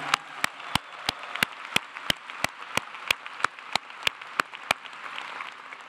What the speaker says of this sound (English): a very loud round of applause for all that he has done